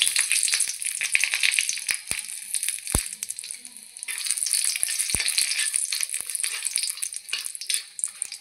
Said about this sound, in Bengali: আলু মাখা করব, তার জন্য শুকনো লঙ্কা ভেজে দেব।